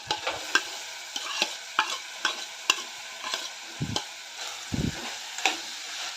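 A spoon stirs shelled pawata beans and potato frying in a pan, giving rhythmic scraping strokes about twice a second over a steady soft sizzle, with a couple of low thuds.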